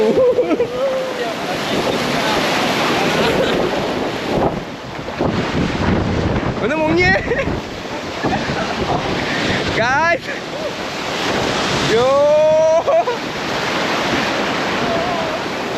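Surf crashes and rushes continuously at Varkala beach while wind roars across the microphone; a few faint whistling and squealing sounds rise briefly above the waves.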